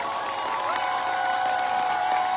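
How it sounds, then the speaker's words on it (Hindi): Crowd applause at a large event, continuous dense clapping with a faint sustained musical tone running beneath it. "जोरदार जोशीली तालियां,"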